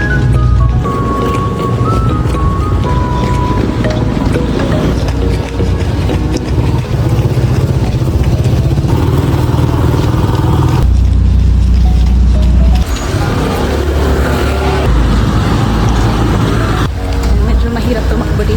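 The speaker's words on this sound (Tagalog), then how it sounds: "Daming tricycle." Motorized tricycles and other traffic rumbling along a wet road in El Nido, a continuous close engine drone with passing vehicles swelling and fading, loud and without a break.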